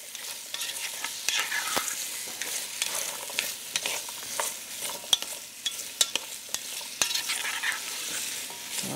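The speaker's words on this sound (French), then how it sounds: "On va bien les enrober avec l'huile d'olive" Squash pieces being stirred in a pan with olive oil and pork belly, giving a continuous close sizzle broken by frequent scraping clicks of the spoon, with no voices.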